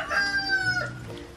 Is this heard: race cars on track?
no